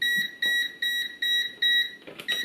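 A multimeter sounds a run of short, evenly spaced high-pitched electronic beeps, about six in a row, loud and clear with no talking, as a warning that it is about to switch off.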